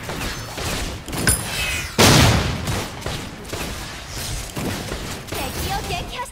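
A tower fires guns in the mobile battle game Extraordinary Ones, with bursts of loud, crackling shots and one sharp blast, all mixed with game effects and someone talking over them.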